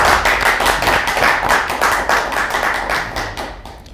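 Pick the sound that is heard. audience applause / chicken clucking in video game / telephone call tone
audience applause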